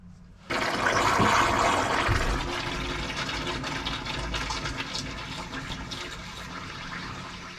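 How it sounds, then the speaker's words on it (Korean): Water rushes in abruptly and flows steadily through a drain during cleaning of a blocked drain clogged with hardened grease, a loud gushing surge that eases into a continuous, slightly fading stream. "물이 흘러."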